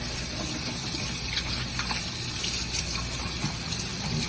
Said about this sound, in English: I'm washing my hands to get started